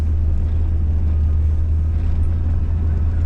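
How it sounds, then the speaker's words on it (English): A chained-up Toyota grinds uphill through snow in snowmobile tracks, giving a steady, loud low engine rumble and drone that holds constant throughout with no talk. "We're driving in snowmobile tracks."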